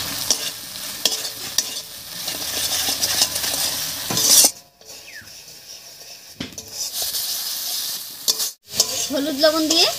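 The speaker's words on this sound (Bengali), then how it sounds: "হলুদ লবণ দিয়ে মশলাটা বেশ একটু কষিয়ে নিয়েছি" Spice paste with turmeric and salt being sautéed in a pan, a hissing sizzle broken by stirring scrapes and a couple of brief pauses, close by, with no voices.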